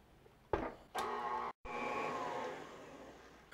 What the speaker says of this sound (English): we're going to cream that in the mixer for a minute